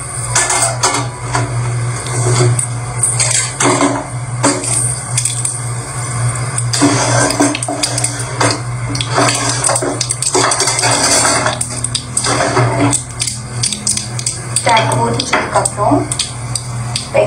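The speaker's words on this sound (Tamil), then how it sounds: "உளுந்தம்பருப்பு, கடுகு, கொஞ்சம் சீரகம் போட்டு அது கொஞ்சம் பொரியட்டும்." Urad dal, mustard seeds and cumin crackle in hot oil in a pan, soft sizzling under repeated scraping and clinking of a utensil against the pan, with a low steady hum behind.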